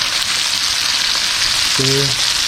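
A grass-fed filet mignon sears in a hot pan, giving a loud, steady sizzle with no pauses and a brief low hum near the end.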